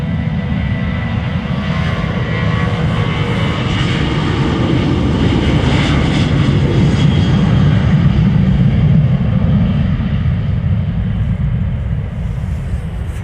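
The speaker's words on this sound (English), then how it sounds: "See that the KLM Dreamliner is coming this way." A KLM Boeing Dreamliner departs Amsterdam Schiphol, a loud sustained jet roar close at hand that holds steady for the whole stretch without talk.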